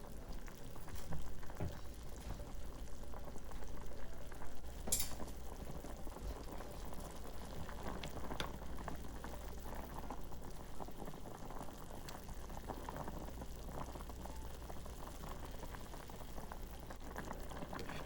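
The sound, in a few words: water boiling in a pot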